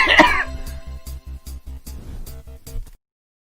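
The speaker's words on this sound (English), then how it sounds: "That cough is not Corona related." One sharp, close cough from a person right at the start, followed by a run of steady rhythmic low thumps that stop abruptly.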